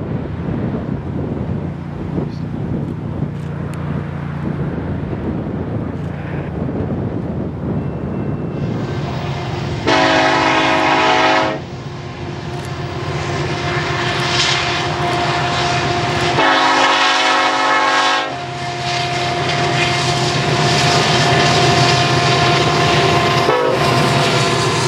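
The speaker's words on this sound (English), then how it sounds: "A helper set was added to the front of the train in Livingston, providing assistance for the battle up Bozeman Pass." A Montana Rail Link freight train with helper locomotives added at the front climbs Bozeman Pass. Heavy diesel engines rumble and roar loudly and continuously, with long blasts of the train horn sounding repeatedly.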